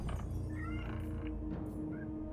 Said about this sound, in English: I have a grumpy cat busting up in here.